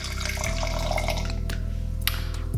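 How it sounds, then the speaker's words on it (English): Canned rosé wine is poured into a glass in a steady, quiet trickle with small splashes, over a low background hum. "let's pour it in"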